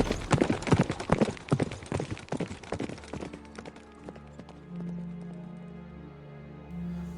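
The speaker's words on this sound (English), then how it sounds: "while Gunpowder, the black horse, and the ghostly rider sped by like a whirlwind." Hoofbeats of a black horse carrying a rider, dense and rapid at first, then thinning out as they pass and fade, leaving a low sustained tone behind.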